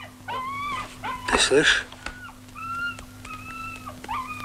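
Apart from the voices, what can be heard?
dog whimpering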